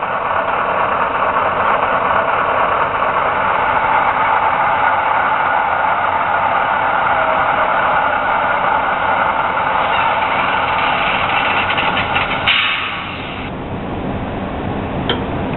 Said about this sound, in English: that was the shutdown of this locomotive